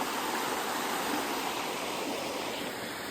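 River water rushes steadily at a small dam during a dry spell, making a loud, continuous, broadband roar with no breaks or other sounds.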